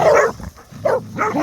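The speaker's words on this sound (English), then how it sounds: "Why is everyone barking? So much barking." Sled dogs bark and yip close by in a few loud, excited bursts with short gaps between them, and no other sounds come through.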